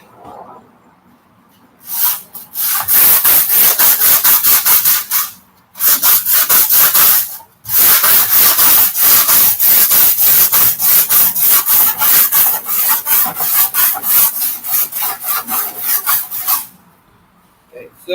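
Sandpaper worked back and forth by hand across a wooden shield makes loud, rapid rasping strokes in long bursts with brief pauses, close up.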